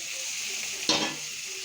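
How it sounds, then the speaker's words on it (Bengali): Bitter gourd and potato fry in a pan over a gas stove, a low steady sizzle broken by one sharp burst of hissing and scraping as the pieces are stirred. "আমি উচ্ছে আলু ভাজছি"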